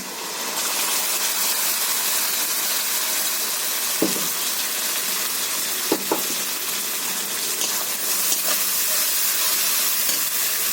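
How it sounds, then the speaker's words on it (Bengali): Fried spice paste sizzles in hot oil in a kadai for chicken ghugni, a steady dense hiss with a few faint clinks of a spoon against the pan. "এখন আমি তেলের মধ্যে দিয়ে দিচ্ছি কড়াইতে"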